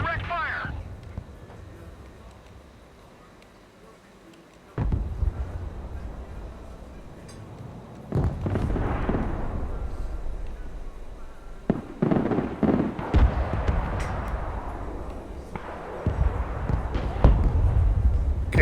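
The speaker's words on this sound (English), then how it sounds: "Okay, I got rockets coming down on that position where they're at." MLRS rocket barrage slamming into a position in the war game Broken Arrow: a string of loud, crackling, booming impacts in irregular bursts, with someone talking through parts of it.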